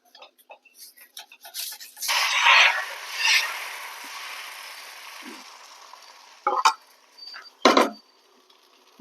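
Dosa batter hits a hot pan with a sudden hissing sizzle that swells and slowly fades, followed by a few brief clinks and scrapes.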